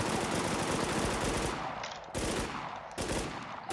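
Gunfire in the online shooter game Warz JapanZ, dense rapid automatic bursts filling the space, loud and continuous with a few brief breaks between volleys.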